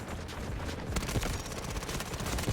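Rapid AS VAL rifle fire in the Delta Force shooter, a fast stream of suppressed shots that starts after a quieter second and keeps going, with a muted, moderate loudness.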